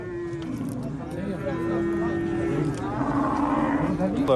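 Young bulls lowing at a busy livestock bazaar in Jalal-Abad, several moos rising over constant crowd chatter and market noise, with people talking throughout.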